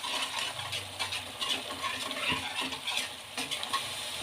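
Coriander powder and garam masala being stirred in a pan for a pasta dish: a close sizzle of frying with scraping utensil strokes and light clinks against the pan, no voices.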